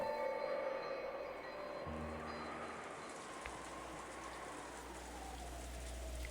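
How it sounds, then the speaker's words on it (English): Rain heard in the Umineko visual novel game, a steady soft hiss of falling rain with low background music and tones underneath, continuous and faint throughout. "you couldn't ignore the sound of the rain sneaking into the dining hall"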